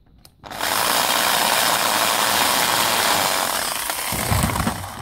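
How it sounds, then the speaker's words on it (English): A power drill bores through a leather strap, grinding steadily and loudly for several seconds after a brief quiet start, with a rough, buzzing texture throughout. "Push the leather in, drill it."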